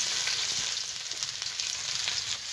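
Chopped ginger and garlic fry in hot oil with a loud, continuous sizzle and faint stirring ticks. No voices are heard.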